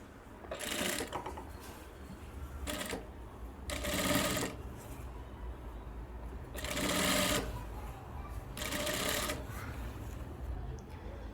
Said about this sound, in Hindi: इस तरह से जो है पूरे राउंड में आप लगाएंगे सिलाई